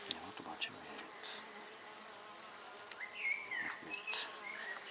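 Honeybees buzzing around an open top-bar hive, a soft continuous hum with individual bees zipping past close by, rising and falling in pitch, with faint background sounds.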